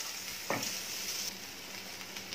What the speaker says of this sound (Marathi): कांदा मस्त भाजून घेतला आहे